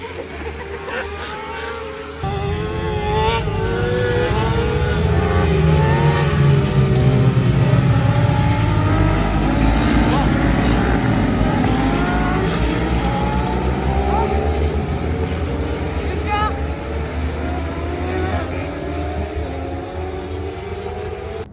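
600cc motorcycles racing at the Carole circuit during a French FSBK championship round, engines droning steadily from the distance with rising and falling pitch as bikes pass, under a continuous crowd-like wash.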